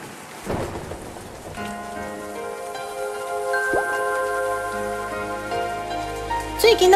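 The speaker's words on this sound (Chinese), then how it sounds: "听一个落雨声" Rain pours steadily with rolls of thunder, a continuous close wash of falling water that stays loud throughout and is joined by a sustained tonal layer partway through.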